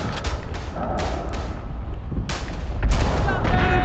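Gunshots crack in the World War I game Verdun, a few sharp reports with rumbling booms and battle noise behind them, loud and close.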